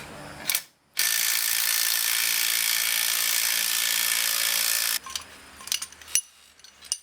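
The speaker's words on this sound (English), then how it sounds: "we're just pulling off the harmonic balancer" An LS engine's harmonic balancer being pulled off with a power tool: a steady, loud mechanical whir running about four seconds, followed by shorter ratcheting bursts and clanks nearby.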